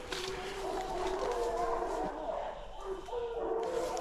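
Hunting dogs bay and howl in a corn field during a drive hunt, several voices overlapping in a continuous, fairly loud chorus of drawn-out cries and yelps with faint human voices beneath.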